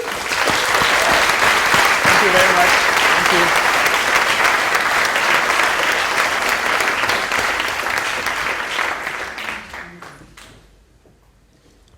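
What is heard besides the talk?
audience applause after a talk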